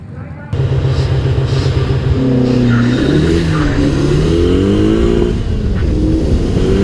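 A car launches on a drag strip, its engine revving hard and climbing in pitch through shifts with brief dips as the clutch and shift limiter cut in, loud and close throughout.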